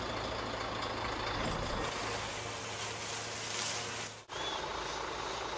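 A sugarcane truck rumbles steadily at a mill weighing station, with a low engine drone and broad mechanical noise throughout and a brief dip near the end.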